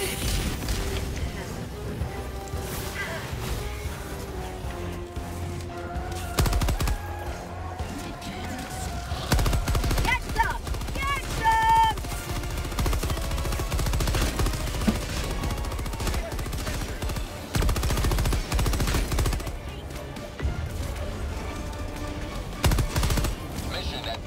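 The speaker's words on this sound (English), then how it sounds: "Yeah, it's a turret." Turret fire in Helldivers 2, repeated close gunshot bursts and booming impacts over constant battle noise, with occasional voices talking under the shooting.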